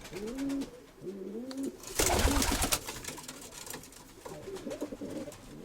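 Pigeons in a loft cooing in repeated low rolling phrases, close and clear, with a brief burst of wing flutter or rustling partway through.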